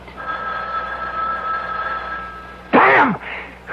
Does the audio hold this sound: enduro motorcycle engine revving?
no